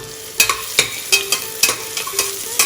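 Chopped garlic and grated ginger sizzle in hot oil inside a pressure cooker while a spoon stirs and scrapes the bottom in quick, regular strokes, loud and close with no talking.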